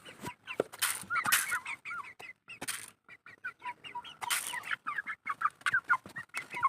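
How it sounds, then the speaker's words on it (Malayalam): Chicks and hens clucking and peeping close by, a busy stream of short calls and chirps with brief pauses, no talking. "ഇതാണ് എൻ്റെ കോഴിക്കുട്ടികൾ."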